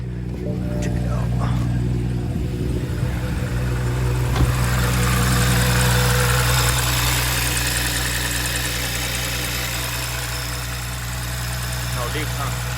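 A BMW B58 engine cranks and settles into a steady idle on its first start after fitting an upgraded high-pressure fuel pump. The mechanical hum runs low and constant, with no voices over it.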